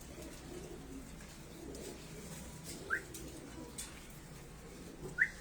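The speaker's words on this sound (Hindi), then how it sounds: "बहुत अच्छी प्यारी कबूतरी।" A few soft pigeon coos, brief and spaced apart, heard faintly against a steady low background hum.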